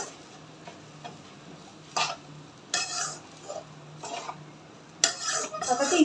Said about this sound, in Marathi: आणि व्यवस्थित मिक्स करून घ्यायचं आहे मीडियम फ्लेमवर छान असा ना भात परतून घ्यायचा आहे आपल्याला